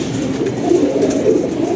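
Pigeon cooing close by in a bird loft, a low, throaty, continuous purring coo with gentle swells, fairly loud.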